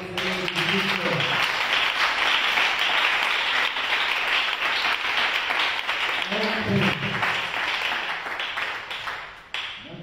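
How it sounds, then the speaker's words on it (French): A church congregation applauds steadily throughout, a dense, loud wash of clapping with brief bits of voice rising over it near the start and middle. "Acclamons le Seigneur Jésus-Christ."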